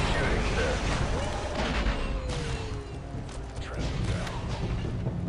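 Grenade blasts and gunfire from the Star Wars Republic Commando video game crackle in a dense, continuous stream of booms and shots, with a voice talking faintly beneath the combat.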